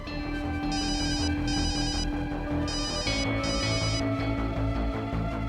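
An electronic phone ringtone trills in repeated bursts over a steady musical backing, clear and continuous, with no voices.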